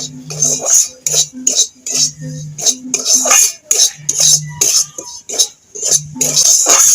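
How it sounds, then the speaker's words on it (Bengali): Semolina being stirred and scraped in ghee in a metal pan, a steady run of close, rhythmic scraping and clinking strokes with short pauses between bursts. "সুজিটা এবার আমি ভেজে নেব"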